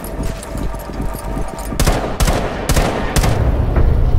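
Automatic gunfire in the tactical shooter Rainbow Six Siege, with a rattle of rapid shots early on followed by several loud, sharp bursts of fire in quick succession, close and dominant.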